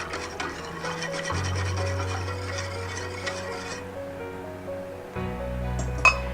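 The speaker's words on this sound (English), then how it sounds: "Let's give that a whisk to incorporate everything." A whisk rubs and clinks against a pot while milk is worked into a sauce for lobster mac and cheese, a steady scraping stir with brief metallic taps and a low hum underneath.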